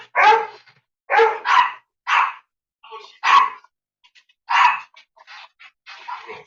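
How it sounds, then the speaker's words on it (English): A dog barks loudly in a home kitchen, sharp close barks coming in irregular bursts of one or two with short pauses between, plus a few softer yips. "Stop barking at me. You're too fucking loud."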